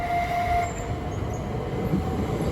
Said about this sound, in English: As here comes our 1450 service to Ramsgate.